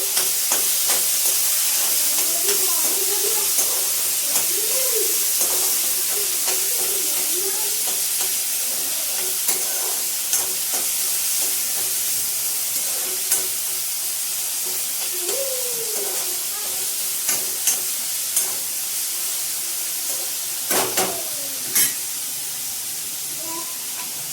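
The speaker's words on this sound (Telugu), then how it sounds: "ఆనియన్ కొద్దిగా బాగా పచ్చివాసన పోయేంత వరకు వేగాలి." Onions frying in a pan give a steady broadband sizzle and hiss throughout, with a few faint scrapes of stirring and brief tonal clinks, fairly close and with no talk.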